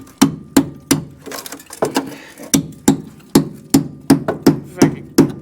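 A hammer strikes a chisel against a steel car floor brace in a workshop, a steady series of sharp close metallic knocks roughly every third of a second, loud and alone.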